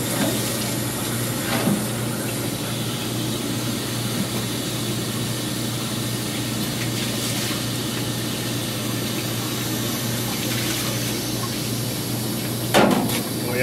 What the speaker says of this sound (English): Then we put some hot water in, rinse it out.